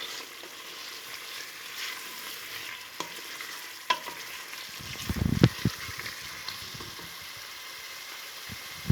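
Red chili powder being stirred into chicken biryani masala in a pan, giving a low sizzle with a few scraping stir strokes clustered near the middle, fairly quiet overall.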